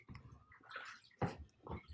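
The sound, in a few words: water as a paper-making screen is wetted in clear water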